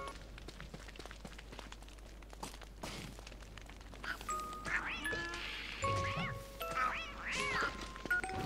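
A catcoon creature in the video game Don't Starve: Reign of Giants lets out several squeaky, warbling meows in the second half, over faint clicking game sounds and rustling.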